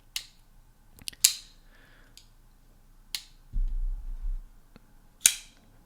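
A blue titanium Shirogorov F95T Gen 4 flipper knife snaps open and shut with a few crisp, sharp detent clicks spaced apart in a quiet room, with a short low rumble between them.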